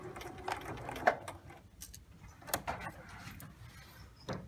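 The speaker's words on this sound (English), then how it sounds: "We'll back stitch at the bottom, stitch up to our pin marking, and stop and do a 1/2 inch back stitch." A sewing machine stitches a lapped zipper in short, faint mechanical bursts with light clicks and pauses between runs, heard close and quiet with no talking.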